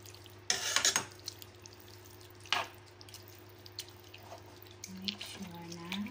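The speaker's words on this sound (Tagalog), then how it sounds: "Tapos hahaluin po ulit natin." A spoon stirs chicken stock into Greek-style tava in a pan, giving faint scraping and liquid clinks with a couple of sharper knocks over a low steady hum.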